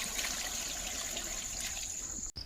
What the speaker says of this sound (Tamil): தழையில் நாம் தண்ணியை ஊற்றிக்கலாம்